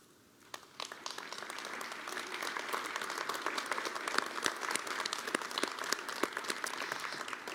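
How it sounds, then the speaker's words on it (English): An audience applauds city employees at Pueblo's State of the City address, the clapping swelling from a quiet start into dense sustained applause with sharp individual claps standing out, moderately distant in a large room. "please stand up and let's give them a round of applause"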